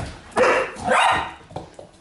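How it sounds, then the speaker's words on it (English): A puppy barks in two bursts with a softer yip after, close by, amid a playful home scene where people talk to the dogs. "Look at that puppy bark."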